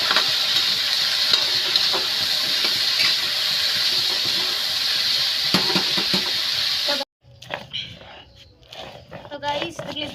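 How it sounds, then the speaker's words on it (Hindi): Washed vegetables hit hot oil with fried onions in a village kitchen pan, giving a loud, steady hiss for about seven seconds with stirring clatter, then the sizzle drops away into quieter clinks and shuffling. "मेरा प्याज भुजा गया तो मैं छौंक देती हूँ सब्जी।"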